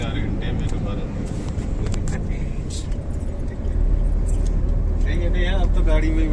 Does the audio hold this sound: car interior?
yes